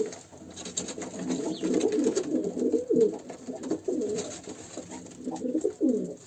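Pigeons cooing close by, repeated soft throaty calls in a steady rhythm, with faint background noise and no talking.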